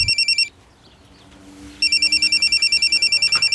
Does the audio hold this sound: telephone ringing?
yes